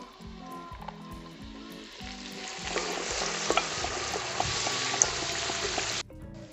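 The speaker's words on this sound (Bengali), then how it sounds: "গাজরটাকে নুন ছাড়া ভালো করে ভেজে নেব" Chopped carrots frying in hot white oil in a pan, a bright continuous sizzle with clattering stirring strokes from a spatula, close up, swelling louder midway before cutting off.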